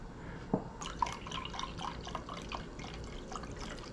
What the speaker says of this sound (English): We're going to add another half cup of beef broth.